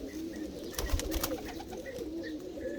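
Japanese mango pigeons coo softly in a steady, repeating murmur, with a brief burst of sharp clattering wingbeats or scuffling midway.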